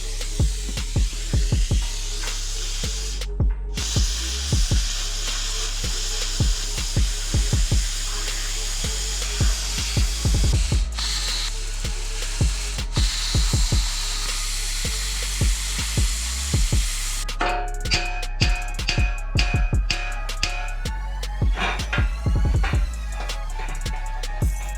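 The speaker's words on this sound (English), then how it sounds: "got the plasma cutter here. I'm gonna cut around both sides of the frame" A plasma cutter slicing a bar off the frame of a second-generation Cummins 12V truck, a continuous loud hissing roar with crackling pops, steady and close for the full stretch, shifting tone near the end.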